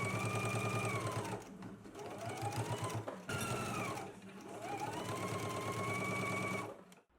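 A sewing machine stitches a back neck seam, whirring loudly and close in three runs of steady stitching separated by brief pauses, then stopping.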